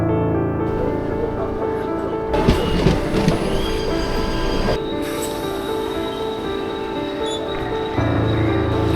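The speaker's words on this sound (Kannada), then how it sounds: "ಇದೇ ಟ್ರೈನ್ ಹಿಡ್ಕೊಂಡು ಹೋಗ್ಬೇಕು." A Mumbai suburban local train runs steadily throughout, with continuous rumbling rail and wheel noise, rattling carriages and occasional squeals. The sound is close and loud, with no talk.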